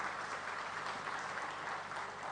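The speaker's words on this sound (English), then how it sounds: "I think he deserves a round of applause." An audience at a presentation event in Nigeria applauds with a steady, even wash of clapping that holds at a moderate, slightly distant level throughout, with no voices over it.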